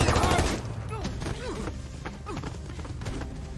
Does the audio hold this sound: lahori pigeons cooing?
no